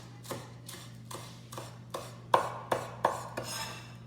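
Ginger being chopped finely with a knife on a board, about ten evenly spaced knife strikes landing in a steady rhythm, close up and moderately quiet, with no voices.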